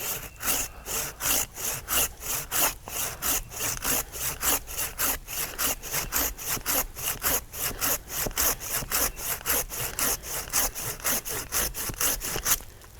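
A Corona handsaw cuts through a tree branch in fast, regular push-pull strokes, each a rasping scrape of wood, heard close and loud with no talking.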